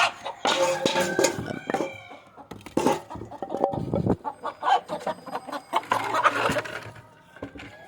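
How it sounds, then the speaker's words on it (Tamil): Free-range native chickens cluck and squawk close by as their coop is opened in the morning, a busy, overlapping flock with a rooster crowing among the chatter. "காலையில் நாட்டுக்கோழி கூட்டி திறக்கே தான் அப்புறம் வீடியோ எடுத்துகிட்ருக்கேன்"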